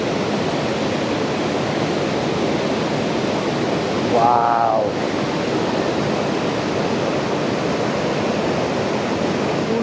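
Steady roaring rush of a waterfall fills the scene, broad and constant, with a brief spoken exclamation near the middle.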